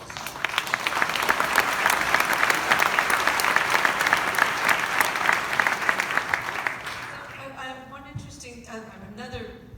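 An audience at a Ford v Ferrari Q&A with the film's stars applauds loudly and steadily for about seven seconds, then the clapping fades and a voice begins speaking.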